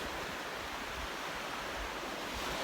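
Soft, steady wash of water, gentle waves lapping continuously against the shore with a faint hiss and no distinct breaks.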